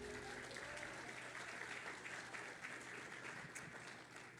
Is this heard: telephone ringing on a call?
no